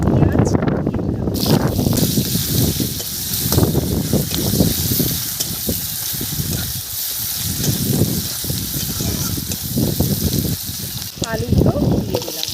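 Onions frying in hot oil after a tempering of dried red chillies and cumin, a steady broadband sizzle running continuously under nearby speech.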